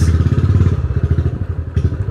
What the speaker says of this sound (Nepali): बाइकको साउन्ड फेरि अति लाउड छ